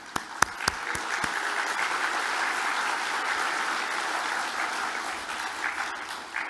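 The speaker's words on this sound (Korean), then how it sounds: "사랑과 격려의 박수로 한번 좀 해주시면 감사하겠습니다" A church congregation claps warmly and steadily, a dense, even wash of applause from a large group, opening with a few sharp separate claps and then sustained alone with no talking.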